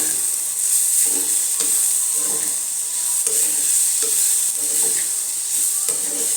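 Chili powder, chili flakes and salt being stirred through frying food in a pan, a steady close sizzle with scraping stirs at intervals.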